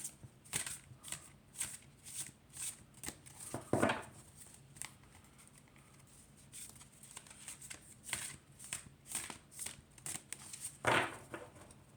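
Cards are shuffled by hand in repeated bursts of soft riffling and slapping, close and fairly quiet, with brief pauses between.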